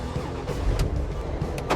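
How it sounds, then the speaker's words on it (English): Twin V8 engine of an eight-wheeled amphibious vehicle, forty years old, cranking on marine batteries, a steady mechanical churn with brief clicks and rattles rising over the low rumble for under two seconds. "Will this twin V8 monster engine fire up on the first try?"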